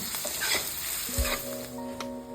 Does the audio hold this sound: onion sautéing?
yes